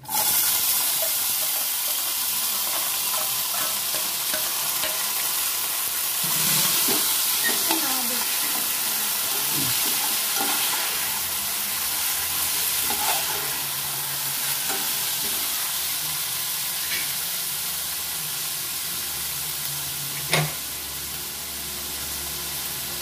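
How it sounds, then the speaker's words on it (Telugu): Mustard and cumin seeds crackle and sizzle in hot oil for a tempering, a steady close frying hiss with scattered pops and a few stirring scrapes, no voices. "తాలింపు వేసుకుంటున్నానండి."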